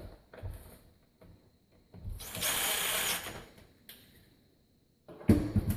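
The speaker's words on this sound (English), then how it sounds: "we'll go ahead and remove the handle using a Phillips or flat screwdriver or screw gun" A screw gun whirs in one sustained burst of about a second while removing the crank handle from an Andersen window, framed by softer clicks and handling knocks nearby.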